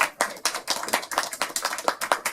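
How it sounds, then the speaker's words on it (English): An audience at a Stetson University law school talk applauds itself, a steady, fairly close patter of many hands clapping with sharp, uneven claps for a couple of seconds and no talking. "You give yourselves a round of applause."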